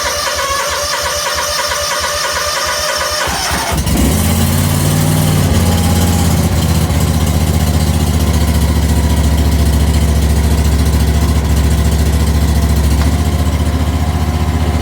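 A Kawasaki 730V engine on a riding lawn mower cranks briefly, catches and fires up on a cold first start of the season, then settles into a steady, loud, close idle with a deep rumbling drone and no talk.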